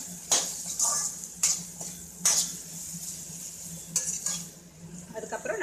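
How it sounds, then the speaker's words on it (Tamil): Cut mushrooms sautéing in a pan for mushroom biryani, a soft sizzle under repeated metallic spoon taps and scrapes, a handful of distinct clinks spaced a second or so apart, close and fairly quiet. "நம்ம கட் பண்ணி வச்சுருக்க மஷ்ரூமை இதில் போட்டுடலாம். போட்டுட்டு ஒரு ரெண்டு நிமிஷம் வதங்கினா போதும்."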